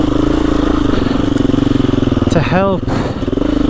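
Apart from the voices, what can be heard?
KTM EXC-F 350 enduro motorcycle engine riding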